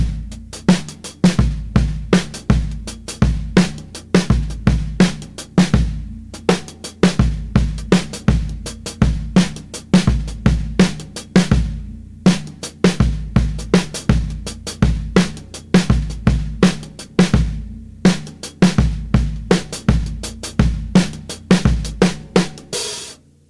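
A drum kit plays the verse groove of a song on its own, a steady, repeating groove with punchy kick and snare hits and busy cymbals keeping time throughout.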